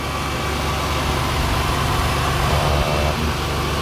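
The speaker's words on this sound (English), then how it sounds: "Looks like I got a misfire." A Lexus IS300 engine idles close by with an uneven, stumbling misfire, its low rumble occasionally hiccuping.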